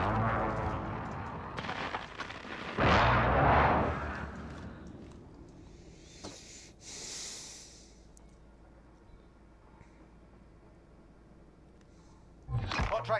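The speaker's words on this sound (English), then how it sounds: "Be advised, friendly precision airstrike inbound." Precision airstrike explosions in a video game: a heavy blast around three seconds in, then lighter booms, hissing and rumbling debris with scattered game voices, and a final burst of impacts near the end.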